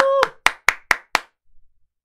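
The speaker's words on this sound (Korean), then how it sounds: "자, 오늘도 여러분들 양손 머리 위로 and 힘차게 박수 치면서 화이팅 하면서 시작하죠." A person raises both hands overhead and claps vigorously: five loud, sharp claps in an even rhythm, with a brief voice just before and a faint murmur after.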